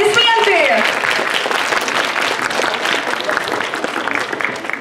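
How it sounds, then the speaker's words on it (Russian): Festival awards ceremony audience breaks into sustained, dense applause after a nomination is announced, loud and steady throughout with a brief whoop near the start. "Аплодисменты!"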